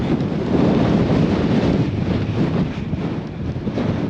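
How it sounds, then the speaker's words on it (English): Loud wind on Broad Cairn summit in the Cairngorms blasts across the microphone in a constant rumbling rush, slightly easing toward the end, with nobody speaking. "Windy summit."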